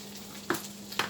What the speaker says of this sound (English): You can hear it frying for real